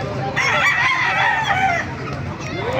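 A six-month-old SBR gamefowl rooster at a market crows once nearby, a loud, drawn-out, rising and falling call lasting about two seconds, with faint background noise.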